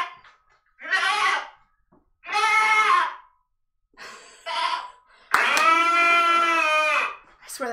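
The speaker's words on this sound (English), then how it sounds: "I swear that sounds like a sick goat" Goats bleating in separate loud, harmonic-rich calls, about five bursts with short silences between, the last one long and strained, close to the microphone.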